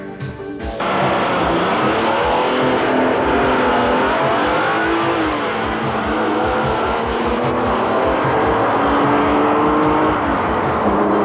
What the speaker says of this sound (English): Cliff Jones from Los Angeles, California, drives a stock '88 BMW M6.